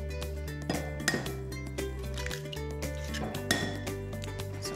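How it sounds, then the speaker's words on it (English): Eggs and milk are beaten together in a bowl for an omelette, a quick series of clinks and scrapes of a utensil against the bowl over a steady musical backing, close up and without talking. "You've gotta beat your eggs and milk together really well."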